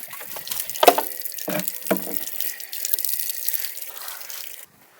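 Water runs steadily from an opened tap into a container, a continuous close splashing stream with a few clunks of handling, then cutting off abruptly near the end.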